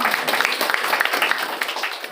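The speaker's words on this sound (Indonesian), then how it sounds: "terima kasih kasih tepuk tangan ya Maria." An audience at a campus motivational event claps briefly, a short, dense burst of applause at moderate distance.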